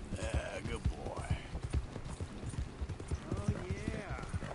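Horse hooves clop in Red Dead Redemption 2, a steady walking rhythm of close, distinct hoof falls, with a voice and occasional horse snorts mixed in.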